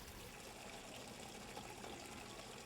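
Water runs through a small water turbine model spinning at about 150 to 165 RPM, a faint, even trickling wash that continues without a break and with no talking.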